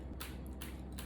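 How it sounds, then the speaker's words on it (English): Three quick crackly bursts of candy corn sprinkles scattering onto a hard floor, evenly spaced, close by and fairly quiet. "That's the sound of sprinkles going on my floor"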